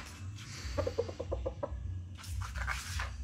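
A four-month-old McLean cross gamefowl stag in its pen lets out a quick run of clucks, followed later by more scattered calls. A low rumble of background noise runs underneath, and no one speaks.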